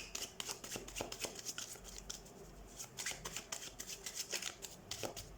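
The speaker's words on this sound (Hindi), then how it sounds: "So let's shuffle the cards and let's see." Tarot cards being shuffled by hand: a soft, quiet, continuous stream of riffling and flicking card sounds close to the mic, with no talking.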